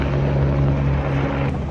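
A helicopter flies near an airfield, its engine producing a loud, steady drone with a sustained low hum, continuous and close, with no voices.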